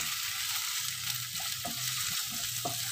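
Onion with crushed ginger and garlic paste sautéing in a pan while making egg Maggi noodles, a steady close frying hiss with a few soft stirring knocks and no talking.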